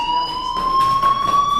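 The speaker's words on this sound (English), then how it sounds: "Hey, do you hear that fire alarm?" A fire alarm in the video game Life is Strange sounds as a loud, steady electronic tone with a slight upward pitch drift, while a rhythmic pulsing beats underneath for its full short length.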